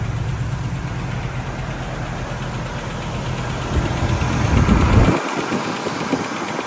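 A Lincoln limousine engine idles after a cold start on a cold New England day, a steady low rumble close by that swells briefly near the end, then settles back to an even idle.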